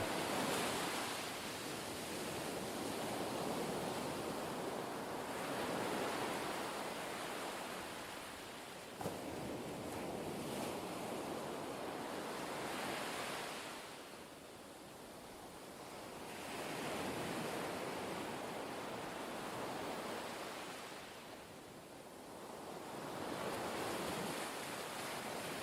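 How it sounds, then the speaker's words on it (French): Ocean waves rolling onto a shore in slow, broad surges of hiss that swell and fade, steady and enveloping with no voices. "vous laisser bercer par le bruit des vagues"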